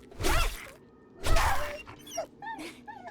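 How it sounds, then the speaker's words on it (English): A dog in the console edition of the video game 7 Days To Die gives a few short yelping barks and whines, fairly close and loud, with no talk over them. "Oh, there's a puppy."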